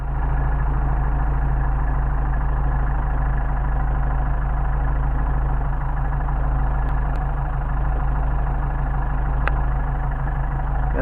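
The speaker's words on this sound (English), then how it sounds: "Got a nice idling engine." A Mercedes 190SL engine with Solex carburetors idles steadily and evenly throughout, a loud, constant low rumble with no voices over it.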